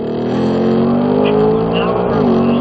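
Ford Mustang race car on a NASCAR track at low speed, a loud steady engine drone that climbs in pitch, then drops briefly around an upshift, close and continuous.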